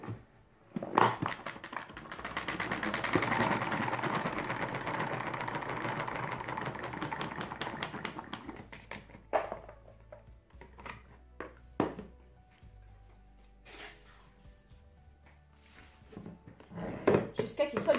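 Basil spins in a salad spinner with a steady whirring, ratcheting rattle that builds and then winds down, followed by scattered clicks and knocks. Someone speaks briefly.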